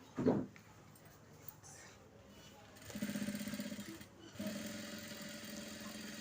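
A sewing machine stitches a blouse in two short, quiet runs with a steady hum. It is heard close, after a brief handling noise at the start.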